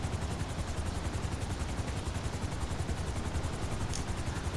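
A helicopter in Grand Theft Auto V gives a steady, rapid rotor chop over a dense engine drone, constant and fairly loud throughout, with no voices.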